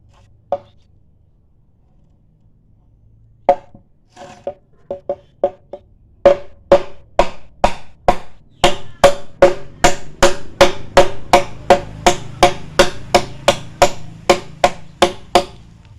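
A few scattered knocks, then steady rapid strokes of a hand saw biting through bamboo for a flower pot, each rasp sharp and evenly paced, close up.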